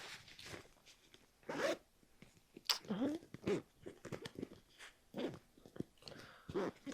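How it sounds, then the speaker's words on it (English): A zipper is pulled in short scratchy bursts, with knitting yarn catching in its teeth. Soft rustling and quiet handling noises fill the gaps between pulls. "Can feel the yarn getting stuck in the zipper."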